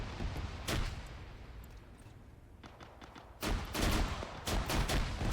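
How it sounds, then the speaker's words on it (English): Arma 3 combat during a naval invasion of Finland, with distant gunfire in scattered bursts and single shots that grow denser and louder toward the end, no talk over it. "And now they're shooting at each other"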